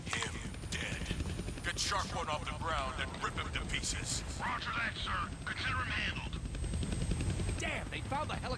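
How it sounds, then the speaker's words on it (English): Helicopter rotor chopping in the Deadpool video game, a steady dense roar with gunfire-like bursts running throughout while people talk over it. "They found the helicopter's on switch."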